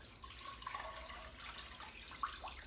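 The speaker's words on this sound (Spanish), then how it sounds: "Aquí voy a agregar agua." Tap water pours into a pot of meat for shredding, a steady close splashing rush with a few brighter splashes, alone without talk.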